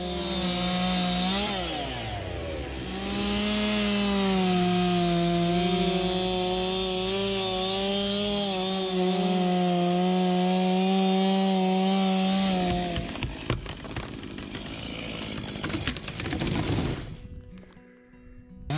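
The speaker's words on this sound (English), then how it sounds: "The chainsaw blade cut through thick layers of wood, the rumbling noise filling the forest" A chainsaw drones steadily through thick wood while felling a huge tree in a forest, its pitch wavering as it bites, then breaks into rough sputtering before cutting off near the end.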